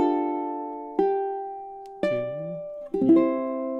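A ukulele plays measures three to five of Happy Birthday as a solo instrumental, with four clear plucked notes, each ringing and decaying before the next, close and alone.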